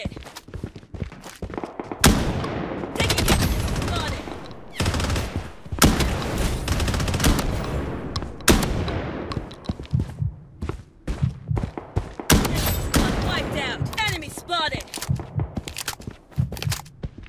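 Bursts of gunfire in the shooter game BloodStrike on Android, ranked mode, with rapid automatic volleys and sharp single shots clustered in loud waves, interspersed with footsteps and brief lulls.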